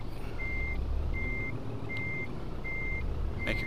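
A reversing truck in Euro Truck Simulator 2 sounds a sharp warning beep five times at an even pace over a low, steady engine rumble.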